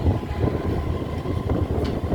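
Steady low rumble and rattle of a train rolling along the tracks from Krishnanagar toward Amghata Halt, continuous and fairly loud throughout, with no voices.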